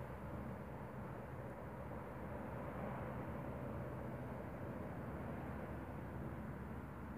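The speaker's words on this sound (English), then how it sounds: "They're them double-bladed ones, Chinooks or something." A Chinook twin-rotor military helicopter passes overhead during training flights, making a steady, distant rumbling roar that holds even throughout with no other sounds.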